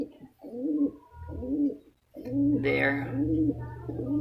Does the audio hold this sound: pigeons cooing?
yes